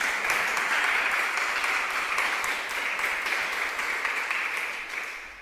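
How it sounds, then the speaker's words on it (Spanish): A congregation at a church service breaks into sustained applause, a dense wash of many hands clapping at a steady level before tapering slightly at the end. "Un aplauso al Señor."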